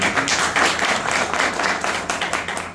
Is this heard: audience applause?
yes